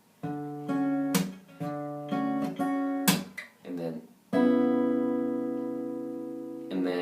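A guitar chord is struck and held, then changed to a new shape, with a few shorter strums and string squeaks in between before a final sustained chord rings out; a voice speaks briefly between the chords.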